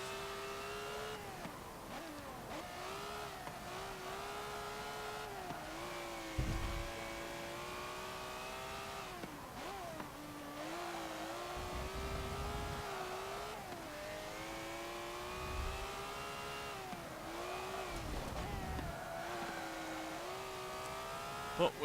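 Prototype race car engine in Forza Motorsport 7 group racing, a continuous high revving roar that climbs and drops through gear shifts and corner braking, with brief thumps between, loud and alone with no talking.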